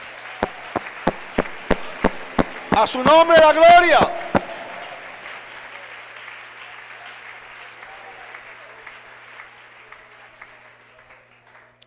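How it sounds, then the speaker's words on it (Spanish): A church congregation claps and applauds in a reverberant hall during a Sunday service. A voice briefly calls out over the applause, which then trails off into a long, fading echo. "Un aplauso para Jesús esta mañana."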